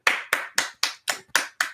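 Seven crisp, evenly spaced hand claps from a single person, close and loud, each sharp and separated by short silences.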